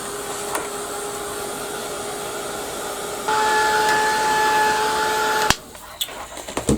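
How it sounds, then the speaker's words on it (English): A heat gun blows on a mixed-media journal page, a steady whirring hum that steps up louder partway through, then cuts off abruptly, leaving a few small handling knocks. "And give it a quick blast with the heat gun."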